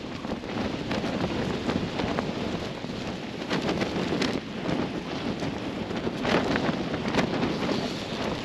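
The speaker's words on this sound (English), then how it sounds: "Well, I think the winds are here. It's blowing a hoolie." Strong gusting wind batters the microphone on the exposed fell of Long Crags, a continuous roaring buffet with surges and flutter, loud and close throughout with no voices.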